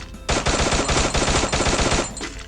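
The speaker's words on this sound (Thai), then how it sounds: "เราลองไปทดสอบยิงกันเลยมา" An XM8 rifle in the Free Fire video game fires a rapid automatic burst of close, loud shots in a steady rhythm for about two seconds.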